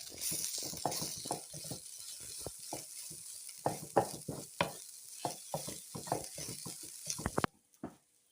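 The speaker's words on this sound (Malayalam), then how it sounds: "കിഴങ്ങൊന്ന് പൊടിച്ചെടുക്കാം" Boiled potatoes being mashed by hand for fish cutlets, a close run of irregular squelching thuds and scrapes that stops abruptly near the end.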